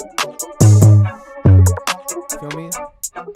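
An FL Studio beat with a deep sustained 808 bass whose first note is delayed, landing in two heavy low booms under crisp hi-hats and percussion, with the bass pattern bouncing loudly through the short loop.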